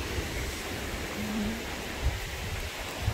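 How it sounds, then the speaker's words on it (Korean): Water rushes continuously in a broad, even wash like a nearby stream, with a few faint low thumps mixed in. "개천이 흐르고 있어요. 여기 물소리 들리시죠?"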